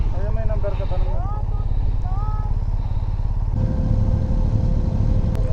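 Motorcycles board a RORO ferry bound from Manila to Bacolod, their engines rumbling and idling steadily up close, with a rising whine and people talking nearby.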